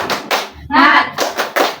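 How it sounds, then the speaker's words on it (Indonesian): A class group of twelfth-grade students does a spirited rhythmic 'tepuk semangat' clap, several sharp bursts of hand claps in a quick pattern, with voices chanting between the claps. "Tepuk semangat"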